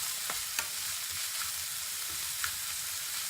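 Onions frying with chorizo in a pan, a soft continuous sizzle close by with a few faint pops and clicks, steady and quiet throughout.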